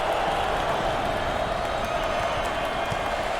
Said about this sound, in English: The crowd starting to chant